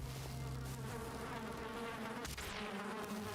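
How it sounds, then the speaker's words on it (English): In the video game Valheim, bees buzz inside a house as a steady, droning hum that carries through the whole stretch, with no talking. "hearing the buzzing of a bee inside"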